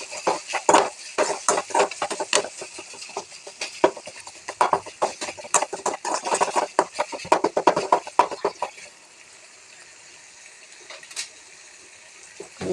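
Onion, tomato and curry leaves are stirred in hot oil in a pan with mustard and fenugreek seeds, giving a run of scraping, clattering stirring strokes over a steady sizzle, close by, which then fade to quiet sizzling.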